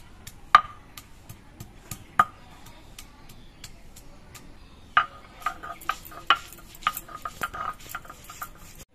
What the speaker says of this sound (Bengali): প্রথমে আমি অল্প একটু আদা বেটে নিচ্ছি।